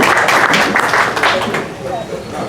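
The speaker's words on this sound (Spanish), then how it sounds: "un aplauso a toda esa generación" Audience applause at a book-fair talk with local musicians in Pando, a steady wash of clapping that runs under continuous voices and eases slightly toward the end.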